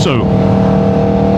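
A 2025 Aprilia RSV4 Factory fitted with an SC Projects full exhaust, its engine holding a steady loud drone close by, with a voice speaking over it at the start.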